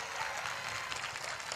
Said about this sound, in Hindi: आज तो तालियों की गड़गड़ाहट ज्यादा होनी चाहिए।